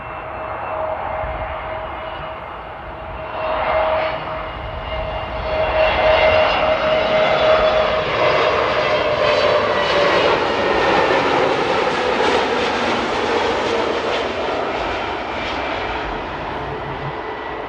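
An EasyJet airliner on approach and landing at Amsterdam Airport roars past, the engine noise swelling from a distant whine to a loud, broad rush, then easing off slightly as it touches down, with no voices.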